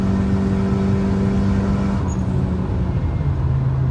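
A Honda Accord G9 2.0 turbo on large wheels holds a steady loud engine drone up close, with the pitch shifting slightly as the revs change and no talk over it.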